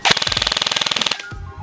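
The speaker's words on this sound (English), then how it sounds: "let's go ahead and test out full auto, so rounds per second." An ICS CXP-MMR DMR airsoft rifle firing a short full-auto burst, a rapid evenly spaced rattle of about twenty shots per second, close and loud, ending in a couple of mechanical clicks.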